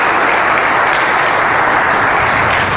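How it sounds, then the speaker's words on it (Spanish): A church congregation breaks into loud, sustained applause, a thick wash of many hands clapping at once with no voices standing out. "Denle fuerte aplauso al Jesús de Nazaret."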